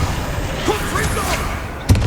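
In Hogwarts Legacy a Confringo fire spell goes off in a rumbling blast under a character's shouted voice and swirling game effects, ending with a sharp thump of impact near the end.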